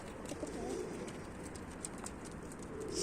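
Tumbler pigeons on a rooftop give soft cooing calls over a faint background hum, quiet and at some distance.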